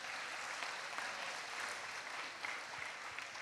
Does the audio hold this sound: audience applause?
yes